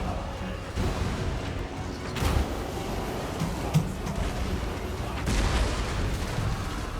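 Artillery fire from Hellcannons in the fantasy battle game Total War: Warhammer, a steady din of booming blasts and crashes with sharper heavy hits around two, four and five and a half seconds over constant battle noise.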